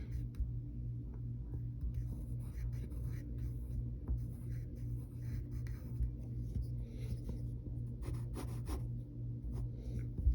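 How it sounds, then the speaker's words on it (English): A pencil scratches steadily across paper while a cartoon dog is sketched, soft continuous strokes close to the microphone over a low background hum. "And then we're going to draw 3 fingers."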